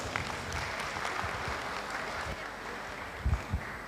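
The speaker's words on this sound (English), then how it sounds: "Please join me to give a round of applause for excellent speech." Faint applause from a conference audience after a speech, a scattered patter of clapping in the background with a few louder claps near the end.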